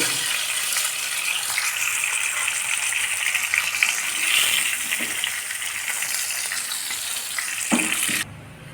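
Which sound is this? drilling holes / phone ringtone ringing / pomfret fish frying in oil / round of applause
pomfret fish frying in oil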